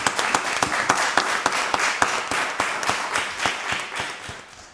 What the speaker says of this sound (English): So y'all give her another round of applause.